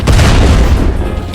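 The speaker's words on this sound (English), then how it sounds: "Just a bomb." A single loud, deep boom of a bomb explosion fills the short moment, a heavy low rumble that decays briefly.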